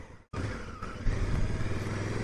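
A Honda Africa Twin motorcycle rides along, its engine droning steadily up close after a brief cut, with a slight rise in revs as it pulls ahead.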